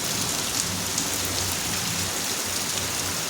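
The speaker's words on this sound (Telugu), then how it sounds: "అంత వానగా వచ్చింది." Heavy summer rain pouring down and drumming on surfaces, a dense, constant hiss of drops at even loudness throughout, with no voices.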